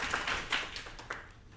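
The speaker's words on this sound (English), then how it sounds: "Let's give him a big applause." An audience at an academic opening ceremony claps for the opening speaker, a short, loose run of a few hand claps that fades out within about a second and a half.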